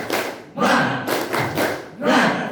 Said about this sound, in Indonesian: mungkin kita kasih tepuk semangat